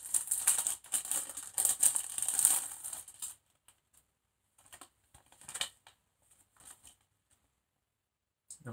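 A small aluminium foil pouch holding promotional Madonna American Life CDs being opened, heard as close crinkling and rustling for a few seconds, then a handful of brief sparse crackles with silence between.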